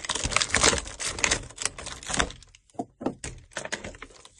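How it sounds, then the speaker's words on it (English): Plastic blister packaging being pulled and torn away from a boxed WWE action figure, giving a run of loud crinkling, snapping bursts that thin into shorter separate crackles and thumps, close up with no talking. "Taking out the packaging."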